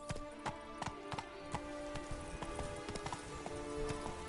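Horse hooves clip-clop in steady, quick rhythm as riders gallop in Witcher 3 Wild Hunt, sharp close impacts over a soft rain-like background wash.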